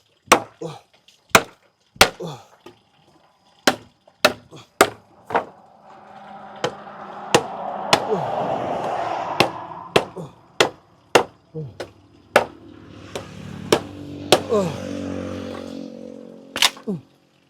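Hammer blows during the tearing down of a house, about twenty sharp, loud knocks in an uneven rhythm, with a rough, noisy stretch of background activity through the middle.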